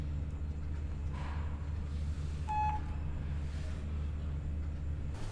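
A telephone being dialed, a brief bright tone burst of a few beeps over a continuous low engine-like rumble, with soft muffled background sounds and no clear speech.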